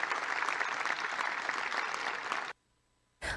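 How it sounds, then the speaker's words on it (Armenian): An audience at a state event greeting the leaders of Armenia and Azerbaijan claps steadily for about two and a half seconds, then cuts to near silence before the clapping briefly resumes. "Ներկաները ծափահարել են"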